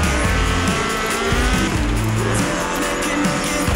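Ford RS 1800 rally car in Forza Horizon 4 racing hard, its engine loud and steady throughout while tires squeal in repeated bursts through corners.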